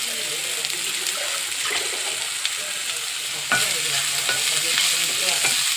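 Onions, tomatoes and masala with salt fry in a pan with a steady, close sizzling hiss, punctuated by occasional stirring scrapes, and the sizzle grows louder and fuller partway through.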